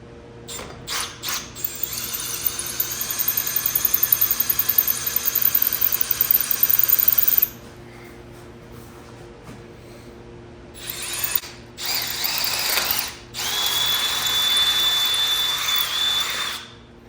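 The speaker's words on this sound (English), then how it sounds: "Then we'll grab our 1/4 inch drill bit." A power drill with a 1/4 inch bit whines at high pitch through metal for several seconds, stops, then starts again in shorter bursts, close and loud.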